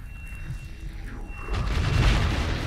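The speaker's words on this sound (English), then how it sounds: "Fire all of our guns." Spaceship guns firing and explosions in the space combat game Starsector, a steady low rumble of blasts that swells into a louder, dense barrage of booms in the second half.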